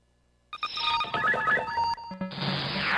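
A telephone rings after a brief silence, sounding a busy, layered electronic ringing tone that continues loudly and shifts into a harsher burst of noise toward the end, with no talk over it.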